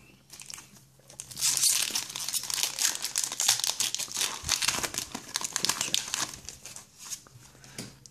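Glossy plastic sleeves crinkle and rustle steadily as Pokémon holo cards slide into them, a close, busy crackling that runs almost the whole time.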